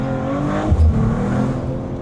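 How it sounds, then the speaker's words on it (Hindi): Mercedes CLE 53 AMG inline-six in comfort mode giving a steady, low exhaust drone heard from inside the cabin at night, with a brief deeper swell partway through. "आप सुन सकते हो कि एग्जॉस्ट नोट"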